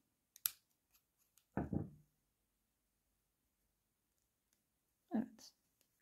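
Scissors snip yarn while a knitted poppy flower is made, a quiet, crisp click near the start followed by soft cutting sounds, with a hushed voice speaking briefly in between.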